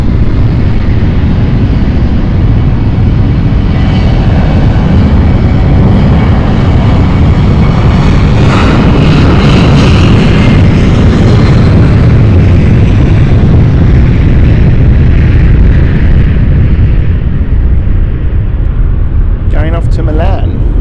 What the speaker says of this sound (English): there's an aircraft waiting to take off as well now